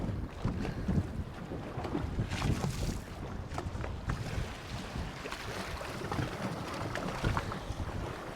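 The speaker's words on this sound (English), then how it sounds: "The wind picked up a lot." Strong wind buffets a small fishing boat out at sea near an island, a constant loud roar of gusts against the microphone with water noise underneath, steady for the whole stretch with no voices.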